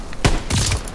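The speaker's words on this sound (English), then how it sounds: "Gunfire! Must be near our guys." Battlefield gunfire from the Call of Duty WWII video game rings out in a couple of sharp, loud bursts within about a second, with no voices over it.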